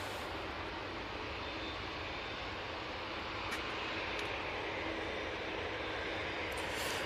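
A departing aircraft at Manchester Airport roars steadily as a broadband, distant-to-moderate engine rumble that swells slightly toward the end.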